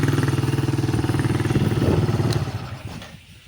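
The engine of a restored children's quad bike runs close by with a loud, even, fast putter, then winds down and fades toward quiet at the end.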